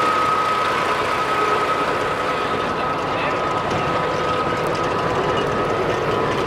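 A Caterpillar D10 tractor's diesel engine runs steadily and loudly at close range while the machine is being loaded, giving a continuous rumbling drone with a faint steady whine over it and no pauses.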